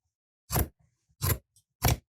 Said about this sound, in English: then just use your regular scissors to just trim